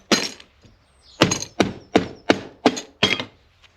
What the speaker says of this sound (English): Get a hammer and literally